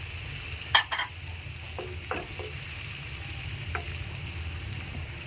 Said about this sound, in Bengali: পেঁয়াজটা একটু ভেজে নেব, লাল করবো না, জাস্ট নরম হয়ে আসা পর্যন্ত ভাজবো।